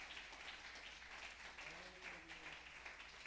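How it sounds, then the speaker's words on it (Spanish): Faint, continuous applause fills a church service, a soft steady patter of many hands heard from a distance, with a voice briefly rising through it. "denle ese aplauso a Jesús"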